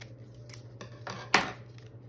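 Scissors trimming the edge of coffee-dyed paper for a Tim Holtz-style journal tag, a few soft snips building to one sharp, close cut, with no voices.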